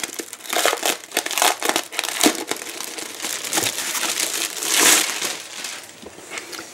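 Stampin' Up! paper crinkles and rustles steadily as it is handled and unwrapped close by, with no talk over it.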